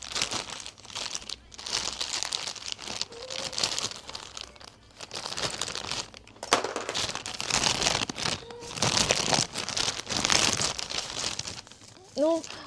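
Plastic parcel wrapping crinkles and tears loudly and steadily as a package is opened indoors, with someone talking over the rustling and a short tonal sound near the end.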